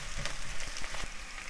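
Potatoes and eggplant sizzle steadily in a hot pan while being stirred, a close, dense frying hiss with a few soft scraping strokes and no speech.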